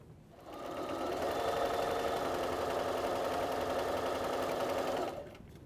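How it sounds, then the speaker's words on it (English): A sewing machine stitches a log cabin quilt block seam in one steady, continuous run of about five seconds, a close, even mechanical hum with fast needle chatter that starts and stops cleanly, with no talking. "I'm going to go ahead and stitch it in this direction"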